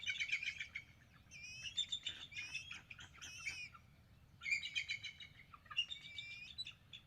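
Eagles call at their nest, an adult calling to the young: repeated bursts of high, shrill chirping and squawking notes in short clusters with pauses between, fairly distant over a low outdoor rumble.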